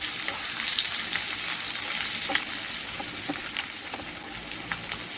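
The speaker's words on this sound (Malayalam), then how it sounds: "ഞാൻ തവയടുപ്പത്ത് വെച്ചിട്ട് ഒരു രണ്ട് സ്പൂൺ എണ്ണ ഒഴിച്ചു കൊടുത്തിട്ടുണ്ട് സ്വല്പം ഇഞ്ചി കുറച്ച് വെളുത്തുള്ളി കുറച്ച് പച്ചമുളക്" Ginger, garlic, green chilli, cloves and a bit of cinnamon frying in two spoons of oil on a tawa, a continuous close crackling sizzle with occasional light spoon stirs, steady throughout and without talking.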